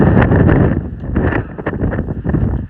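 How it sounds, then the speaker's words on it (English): Strong wind batters the microphone on a mountain trail along the Pacific Crest Trail, a loud continuous roar with heavy buffeting gusts that surge and dip throughout. "This wind is just nuts."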